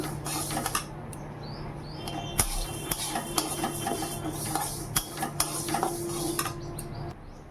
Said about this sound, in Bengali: মুগ ডাল রান্না করব তো মুগ ডালটা ভেজে নিচ্ছি